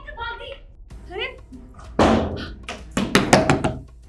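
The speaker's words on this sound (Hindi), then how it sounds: "दरवाजा बंद कर दिया" A door is shut during a tense domestic scene, a sharp thud at about two seconds followed by a burst of knocking or banging, with hurried voices and a woman's speech before it.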